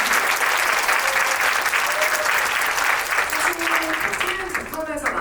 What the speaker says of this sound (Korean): 두 분이 부끄러우실 테니까 박수 한 번만 보내주세요.